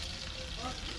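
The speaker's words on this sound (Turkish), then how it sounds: "Balığı çok kızartmıyoruz abine." Freshly caught fish frying in oil in a pan at an Istanbul harbor, giving a steady, close, crackling sizzle that fills the whole moment with no pause.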